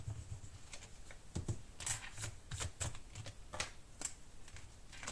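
Coin or eraser scratching off a scratch-card sticker: a series of short, dry rasping strokes in irregular bursts, close and fairly quiet, with no voices.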